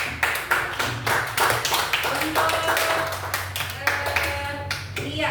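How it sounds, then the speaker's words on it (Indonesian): Schoolchildren applauding a student group in an Indonesian classroom, a lively burst of many hands clapping close by, uneven and sustained for several seconds, with children's voices chattering underneath. "Berikan tepuk tangan untuk kelompok 1."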